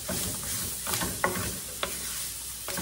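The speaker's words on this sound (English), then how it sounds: "I'm going to go ahead and put them in there, toss them around in this roux." Meat stirred and tossed through a roux in a hot pan for Swiss steak, a steady close sizzle with scraping and clinking of the spoon against the pan.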